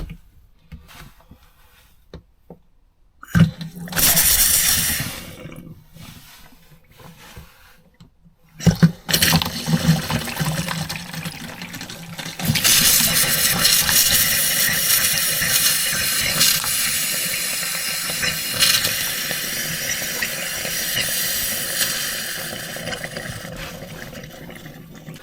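Water and air blasted out of a caravan's Truma Ultraflow water system into a toilet bowl, a loud sputtering rush that starts in short bursts, then settles into a steady gushing spray for around fifteen seconds.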